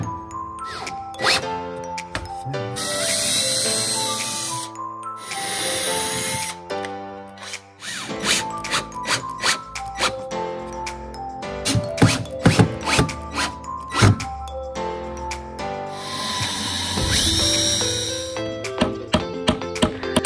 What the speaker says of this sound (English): So here we're drilling some pocket holes so that we can drill that base.